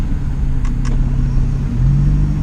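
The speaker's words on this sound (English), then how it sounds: "So that was a Ferrari." A Ferrari drives past with a steady mid-pitched engine rumble that swells slightly toward the end, heard from inside another car with no talking.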